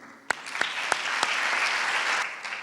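An audience at a formal ceremony for an industrial sciences and technologies school bursts into steady applause that swells and holds for a few seconds, with a few sharp claps standing out at the start.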